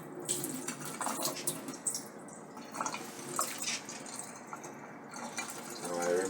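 Tap water running and splashing while raw chicken breast is washed in a kitchen sink, with uneven drips and splatters at close range.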